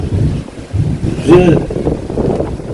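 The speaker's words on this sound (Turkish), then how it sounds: "Başkan Büyük Akın ve protokol teknelerle denize açıldı" Boats carrying officials head out to sea off Kocaeli, a steady low rumble blended with gusty wind buffeting the microphone, while a voice talks over it.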